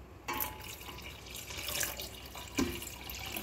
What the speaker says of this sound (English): And yung 2 cups of water.